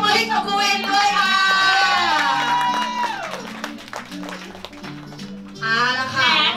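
An audience cheering and clapping for dancers at a school dance show, with high whoops and yells over claps, fading midway and rising again at the end.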